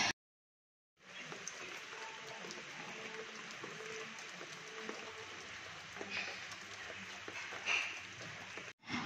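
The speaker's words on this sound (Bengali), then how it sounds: "তো তখনও প্রচুর বৃষ্টি পড়ছে" Heavy rain falls outside cottages in the Dooars as a steady, dense hiss. It starts after a brief silence and holds evenly at moderate loudness.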